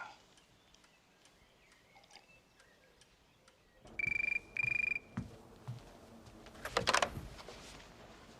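Telephone ringing in a 1988 Irish film scene, two loud electronic rings in quick succession after a quiet stretch, followed by rustling movement.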